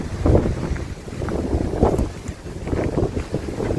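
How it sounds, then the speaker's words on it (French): Strong wind gusting outdoors on an icy winter day in Québec, with frost-covered trees and de-iced sidewalks, a steady loud roar buffeting the microphone throughout with no talking. "Beaucoup de vent."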